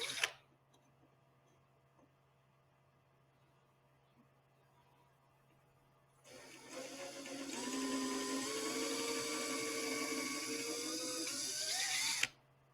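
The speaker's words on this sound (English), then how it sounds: "Drill 2 holes using a number 30 drill bit along the cord line about 4 inches apart." A small power drill with a number 30 bit bores holes through the end plugs of a model helicopter's tail stabilizer fin. After six quiet seconds, a steady high whine runs for about six seconds and cuts off abruptly.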